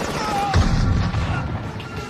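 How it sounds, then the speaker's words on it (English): Bomb blasts in the 1984 film The Terminator: a loud, dense crash with a heavy low boom about halfway through, over a continuous roar of action-scene noise, with no speech. "These were some of the most useless bombs ever thrown."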